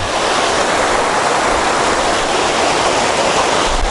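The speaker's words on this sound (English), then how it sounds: "Pretty big raindrops too" Steady broadband wash of heavy rain, big drops pattering densely and continuously close by, with no voices.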